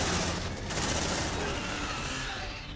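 Marines' gunfire in Aliens: Dark Descent, a loud sustained barrage of rapid shots running without a break, dense and close throughout.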